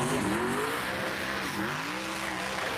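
A car in a video game scraping along and skidding, with a loud continuous engine whine and tire squeal that rises and falls over a few seconds, with no voices.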